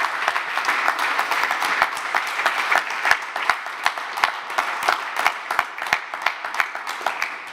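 Applause from a conference audience at a facade summit follows a presentation, a dense, steady clapping from many hands that holds strongly throughout, with individual sharp claps standing out in the wash.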